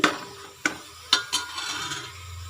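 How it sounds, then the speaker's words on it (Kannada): Black nightshade (ganike) greens being fried in a pan, with a few sharp clatters of a utensil against the pan over a soft, steady sizzle. "ನೋಡಿ ಈಗ ಚೆನ್ನಾಗಿ ಫ್ರೈ ಆಗಲಿ ತುಂಬ ಹಸಿ ಸ್ಮೆಲ್ ಹೋಗಬೇಕು"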